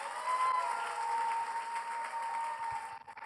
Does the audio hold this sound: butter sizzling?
no